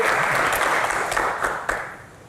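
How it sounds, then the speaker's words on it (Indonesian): A room full of people claps in a dense, steady burst of applause that gradually fades out over a couple of seconds. "Tepuk tangan dulu lah untuk kita ini."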